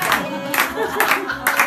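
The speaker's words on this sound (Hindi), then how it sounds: "ताली बजाओ, ताली बजाओ," Guests at a birthday party clap their hands in a quick rhythmic beat of sharp bursts, with voices chanting along over the claps.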